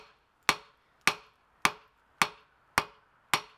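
Six evenly spaced, sharp hammer blows ring out on hot metal as a bar is drawn down at the forge, each strike loud and close with a quick ringing decay.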